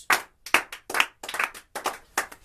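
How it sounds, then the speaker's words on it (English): A single person clapping hands a dozen or so times in an uneven rhythm, close and crisp with short silences between claps. "And a round of applause for flags."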